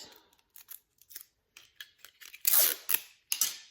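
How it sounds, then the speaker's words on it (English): Clear tape pulled and pressed onto a package of candy for a red truck themed Christmas gift basket, several close, crisp bursts of tearing and crinkling tape with quiet gaps between. "I think I'm just gonna tape it to this package of candy here, just like that"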